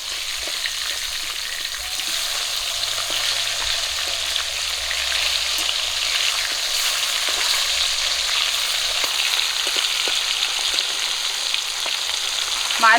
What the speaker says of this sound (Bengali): মাছের এক পিট করে ভাজা হয়ে গেছে উল্টে দেবো